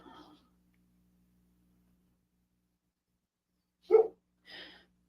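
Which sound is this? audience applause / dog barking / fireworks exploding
dog barking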